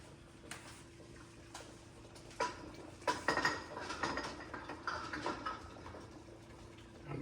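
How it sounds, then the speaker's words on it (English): Clinking glass against a metal jar lifter with a bubbling, rattling wash as a glass jar of blueberry jam is lowered into a boiling-water canner, close and moderately loud, no speech. "take my jar lifter and put it right back in the boiling water with the other jars"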